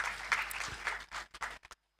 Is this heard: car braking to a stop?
no